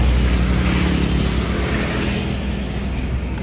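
Jetbus 5 tour bus at a toll gate, its engine a steady low rumble that stays close and even and slowly eases off, with no voices.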